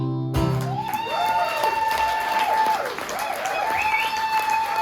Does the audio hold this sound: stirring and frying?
no